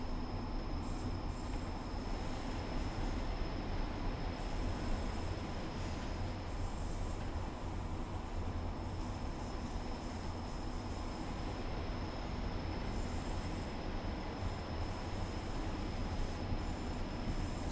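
A local passenger train on the West Cornwall line toward Penzance in Train Sim World 4 slows down, with a steady, continuous rumble of wheels and motor and a faint high whine held throughout.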